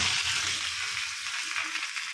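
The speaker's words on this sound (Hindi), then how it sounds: "पकने के बाद इसको हम छौंका लगाने, छम हो गया है, इसमें हम मिर्चा लहसुन डालेंगे।" Chili and garlic hitting hot oil for a tempering on urad dal with spinach, Allahabad style, a loud close hiss of sizzling and frying that holds steady throughout, with no voice.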